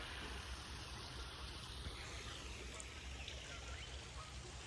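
A small stream running downhill in a dam park, a faint, continuous broadband wash of flowing water with no voices.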